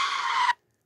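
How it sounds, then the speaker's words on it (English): A car's tire squeal from a fast roll, an edited sound effect: one loud, high screech lasting about half a second that then cuts off abruptly to silence, with no voices. "This is the tire squeal"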